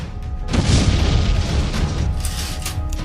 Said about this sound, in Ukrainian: Вони підірвали його, підклавши бомбу.